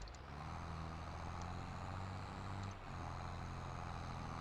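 A tractor engine drones steadily while plowing a hilly field in Westby, Wisconsin, with a brief dip in the rumble as it downshifts, loud and close, with no talk.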